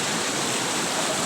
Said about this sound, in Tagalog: Baha na naman guys. Malalim na naman yung tubig dito